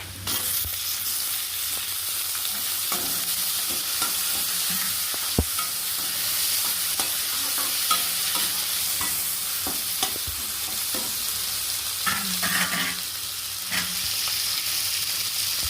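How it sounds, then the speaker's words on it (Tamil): Onions, tomatoes and green chillies sauté in a pan with a steady sizzle, broken by occasional scrapes and knocks of a spoon stirring, close up and continuous. "போட்ட வெங்காயம், தக்காளி, பச்சை மிளகாய் எல்லாமே ஓரளவுக்கு வதங்கிடுச்சு."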